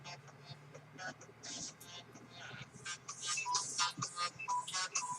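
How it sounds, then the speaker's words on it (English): A mobile phone ringtone goes off somewhere in a live audience, bright chiming tones repeating in short bursts that grow more prominent toward the end while a person keeps talking over them. "someone's phone's going off"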